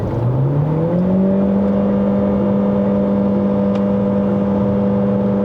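A Chery Tiggo Cross 1.5 HEV hybrid SUV accelerates on a test drive, its engine drone rising steadily in pitch and then holding a loud, continuous whirring tone close inside the cabin.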